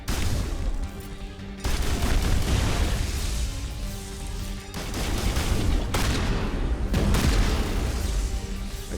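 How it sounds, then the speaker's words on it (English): Repeated shotgun blasts in Mass Effect 1, fired point-blank at a single enemy: loud, heavy booms at irregular intervals with sharp onsets and rumbling tails, alongside other battle noise and no talk. "I'm just literally just gonna stand here and shoot him with a shotgun repeatedly until he's dead"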